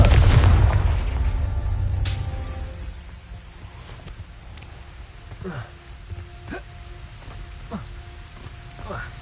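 A loud, deep magical blast from the Confringo spell in Hogwarts Legacy booms up front and rumbles away, followed by several sharp, smaller impact cracks spaced out over the next few seconds.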